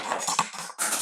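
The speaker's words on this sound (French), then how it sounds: "J'ai fait tomber ma paire de ciseaux" A pair of scissors is dropped, a brief metallic clatter on a hard surface, a couple of quick rattling impacts within a second.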